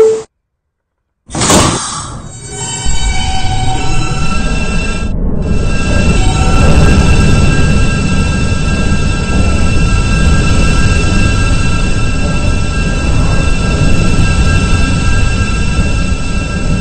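A New York subway K train rumbles steadily along the tracks after a brief electronic tone, with a high metallic whine and squeal riding over the low roar.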